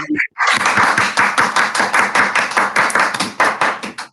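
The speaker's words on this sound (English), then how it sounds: "So can we give Acorn class a clap for their Go Velo awards?" A school assembly of children claps for a class receiving awards, a loud, steady patter of many small hands that carries on evenly for several seconds after a brief pause.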